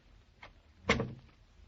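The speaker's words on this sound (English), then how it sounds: "since we're all safely inside at one time, I'll shut the door." A door shuts in a 1947 old-time radio drama: a faint click, then one solid, close thump that dies away quickly, with no voices.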